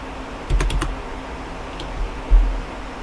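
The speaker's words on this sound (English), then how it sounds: "I can type in Jan Hayes, Hayes." Computer keyboard typing comes in two quick bursts of a few sharp clicks against a quiet background hum.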